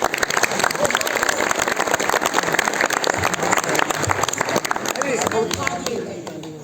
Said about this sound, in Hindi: तो हम उन सब के लिए तालियां बजाएं।